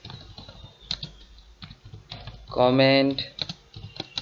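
Keys clatter on a computer keyboard while text is entered in the vi editor on Linux, in quick close taps around a brief spoken word.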